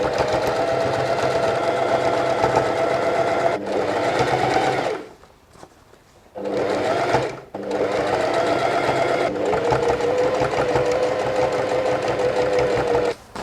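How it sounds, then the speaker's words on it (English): A sewing machine stitches a gathered seam on fabric, a close, loud, steady mechanical whir running in long bursts with two short pauses in between. "as you're sewing this, we want to keep the sewing line of the gathered stitch on the seam outside"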